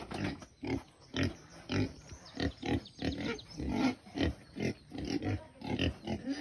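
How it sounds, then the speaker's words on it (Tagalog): A pig grunts repeatedly in short, rhythmic bursts close by, a steady run of snorting oinks with brief pauses between them. "Baboy."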